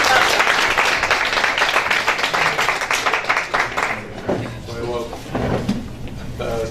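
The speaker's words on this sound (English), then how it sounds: "Please put another round of applause for Ms. Ann here." A mayoral debate audience claps in a dense, loud, sustained round of applause that gradually thins out, with a voice rising over the last few seconds.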